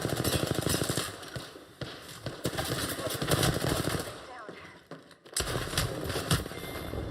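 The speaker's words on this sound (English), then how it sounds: "Yep, something shooting at me." Rapid bursts of gunfire aimed at the player in a first-person shooter, dense clattering volleys running nearly throughout, loud and close, briefly dropping out before resuming, with game sounds mixed in.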